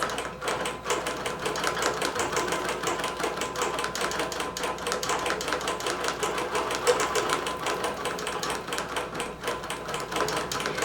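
A computerized quilting machine stitches a butterfly pattern with a fast, even mechanical needle clatter that stays steady and close throughout.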